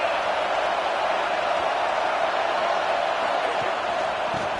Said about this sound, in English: This crowd is losing its mind on 4th and goal